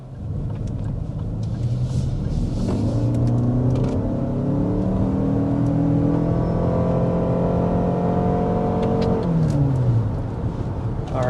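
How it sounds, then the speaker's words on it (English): A 2026 Lexus RX 350h hybrid SUV accelerating hard to 60 mph, a steady loud engine drone with rising then falling tones from inside the cabin, ending in a shift-like drop. "But first, we need to start with a hard acceleration."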